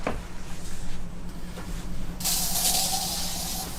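An aerosol can sprays a steady hissing burst onto a bed being disinfected, starting partway through and continuing to the end, loud and close, with quieter room sounds before it.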